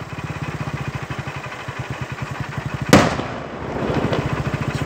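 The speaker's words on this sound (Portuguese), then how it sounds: "Explodiu o carro lá, ó." An armored car explodes on a highway in Brazil: a sharp, loud blast cuts through a steady rumbling engine idle, followed by a rushing burst of noise that fades back into the engine drone.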